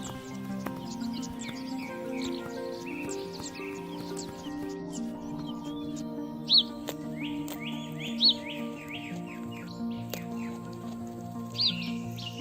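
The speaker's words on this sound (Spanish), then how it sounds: "Un grupo de aves picabueyes se posa sobre el lomo de Nalia, picoteando las garrapatas escondidas entre su espeso pelaje." Oxpeckers perched on an African wild dog on the savanna give rapid, sharp chirping calls in bursts over a soft musical backdrop, with a few louder call notes standing out.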